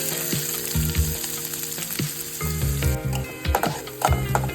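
Onions sizzling in hot oil in a pan along with cumin, curry leaves and green chillies, a continuous loud frying hiss broken by repeated scrapes and knocks of a spatula stirring, with no talking.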